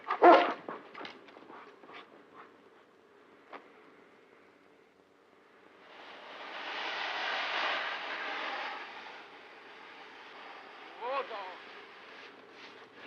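Sled dog King barks and whimpers in the Yukon wilderness, with short sharp yelps early, then quieter stretches, a broad noisy swell midway, and another burst of whining cries near the end, mixed with voices and drama-style sound effects.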